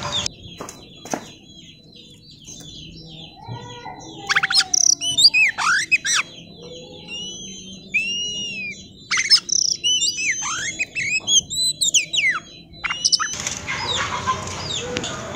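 An oriental magpie-robin in an aviary sings rich, varied phrases with whistles and rapid chirps, loud and close, repeated in bursts, with other bird calls and a harsher chatter near the end.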